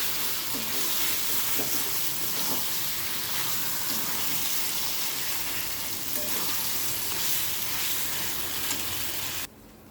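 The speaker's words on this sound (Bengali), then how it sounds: "চিকেনটা জোর আঁচে রেখে ভালো করে কষে নিতে হবে।" Chicken pieces fry over high heat for a potato and meat curry, giving a constant dense sizzle close by for most of the stretch before it drops off abruptly at the very end.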